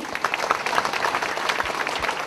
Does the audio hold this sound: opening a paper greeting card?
no